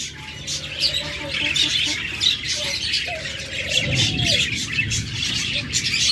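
Budgerigar parakeets chatter continuously at close range, with shrill chirps and occasional harsher squawks rising above a low background rumble.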